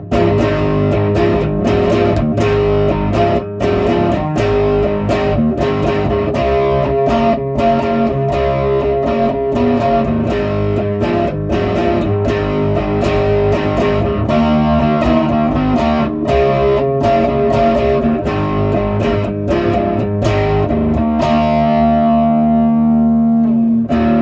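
Telecaster electric guitar on its bridge pickup, played through a Soldano SLO tube preamp with gain at maximum, gives thick distorted chords and riffs, loud and close throughout with sharp picked attacks, then a final chord rings out and decays.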